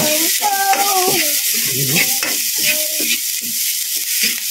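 Sliced onion fries in a small amount of oil in a pan, giving a steady close sizzle while a utensil scrapes and stirs, with short tonal squeaks and clatter over the frying.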